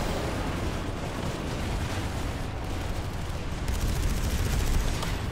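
Dense gunfire and explosions from the Planetside 2 video game form a continuous loud, crackling barrage of distant shots and blasts; no separate reloading click stands out.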